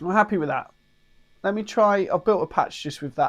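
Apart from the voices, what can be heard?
No everyday noises stand out.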